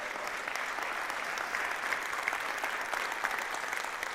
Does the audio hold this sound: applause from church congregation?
yes